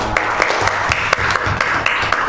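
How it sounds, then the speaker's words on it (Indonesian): Students in a coding and artificial intelligence class applaud with steady, fairly loud clapping, individual claps standing out over a continuous background of room noise. "Tepuk tangan untuk kita."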